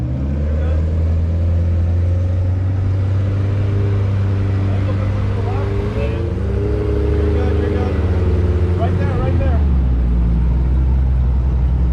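A right-hand drive Toyota Supra with a manual swap and BBS wheels runs at a car meet, its engine droning steadily throughout with low harmonic bands that rise and fall through revs around the middle and end, while people talk nearby.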